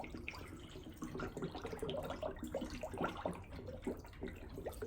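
Coolant poured into the radiator of a 1979 Honda Goldwing, a faint, close trickle of liquid with small irregular gurgles and bubbling pops running steadily throughout.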